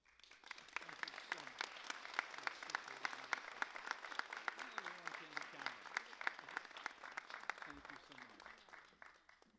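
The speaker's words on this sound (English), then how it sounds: "Just give another round of applause to Mr. Craven and everybody here at Frankfurt" Audience applause at an award ceremony, a continuous bed of many clapping hands, fairly quiet and distant, with people talking over it throughout.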